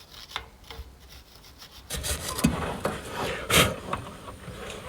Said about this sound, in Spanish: Vamos a limpiar un poco los tornillos